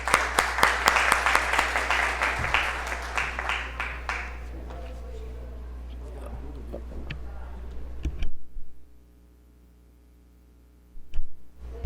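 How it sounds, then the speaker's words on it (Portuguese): A burst of applause from an audience at a Brazilian engineering panel session, dense clapping for about four seconds that thins out and falls to near silence, with a few stray claps at the end. "Por favor, uma salva de palmas."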